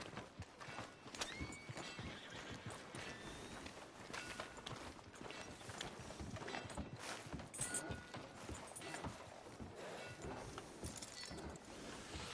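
A horse neighs and its hooves clip-clop steadily throughout, with rustling background ambience and no voices, in the game Red Dead.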